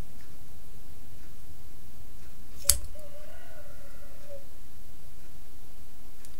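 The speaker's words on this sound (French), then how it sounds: "Je viens prendre mes ciseaux." Scissors snip through yarn while a homemade pompom tassel is made: one crisp, close cut stands out against a quiet background, followed by a faint, brief squeak.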